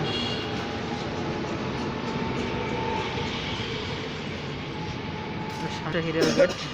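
A train runs at a railway station by a rail gate in Rajshahi in the morning, giving a continuous rumbling roll that stays fairly even and ends with a few brief louder knocks.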